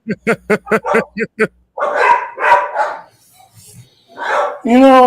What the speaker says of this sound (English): I got the dog barking in the house